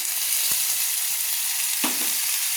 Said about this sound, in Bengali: দিয়ে আমি ভালো করে নেড়ে নিচ্ছি, আবারও ভালো করে আমি নেড়ে নিচ্ছি মশলাটাকে